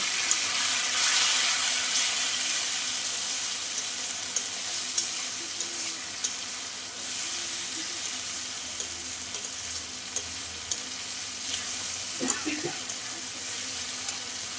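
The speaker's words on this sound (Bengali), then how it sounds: "কষানোটা হয়ে গেছে আমার একটু জল দিয়ে ভালো করে নেড়ে করে" Spice paste sizzling in a pan while being stirred, a steady close frying hiss with light scraping and occasional clinks, with a brief trickle of water near the end.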